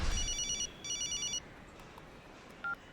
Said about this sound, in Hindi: तुम्हारा फोन बज रहा है यार।